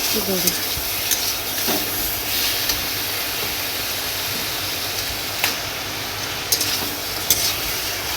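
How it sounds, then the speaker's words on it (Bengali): Meat with ground spice paste and liquid is stirred in a hot pan, giving a constant loud hiss and sizzle under scattered scrapes and clinks of the spoon, with no talking. "অল্প অল্প করে দিচ্ছি আর অল্প অল্প করে মিশিয়ে নিচ্ছি"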